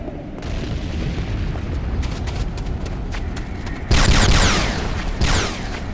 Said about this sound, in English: GDI infantry barracks destroyed.